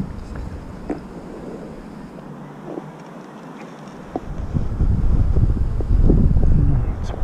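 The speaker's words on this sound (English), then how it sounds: "It's pretty windy today." Wind buffets the microphone, a low rumbling roar that grows louder and steadier in the second half.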